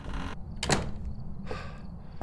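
A door slides and thuds shut, followed by a second softer mechanical door movement, all over a low steady hum in the game Phasmophobia.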